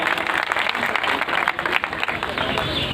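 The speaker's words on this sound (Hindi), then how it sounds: "मैं मंचासीनों से आग्रह करूंगा इनके सम्मान में दिल की गहराइयों से जोरदार तालियां हो जाए।" Dense, sustained applause from a large audience, clapping steadily and loudly for the whole stretch.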